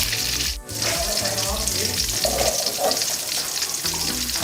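Salted fish sizzles and spatters in a pan of hot oil, a steady crackling fry that continues throughout with a brief dip near the start and faint kitchen clatter.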